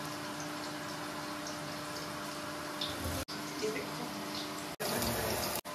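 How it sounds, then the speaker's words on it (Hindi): Running water from a tap rinsing bitter gourd in a kitchen, a steady soft splashing flow, faint and continuous with a couple of abrupt cuts. "इसको भी पानी से धो लेती हूँ।"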